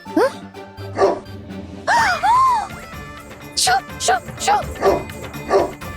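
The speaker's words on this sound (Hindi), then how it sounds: "वो देखिए कुत्ता टोकरी चाट रहा" A cartoon dog lets out a run of short yips and barks in separate bursts, close and fairly loud, while voices talk around it.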